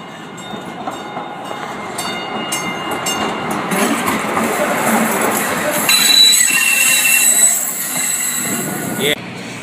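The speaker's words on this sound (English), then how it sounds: "That train stopped there." An MTA Maryland light rail train in Baltimore rolls past close by, a loud sustained rumble of wheels with high metallic squealing building midway, while people talk faintly nearby.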